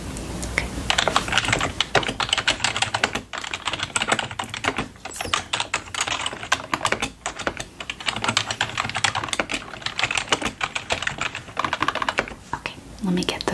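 Rapid, continuous keyboard typing at a ski resort lodge check-in desk while room key cards are processed, close and steady with brief pauses, under soft-spoken talk.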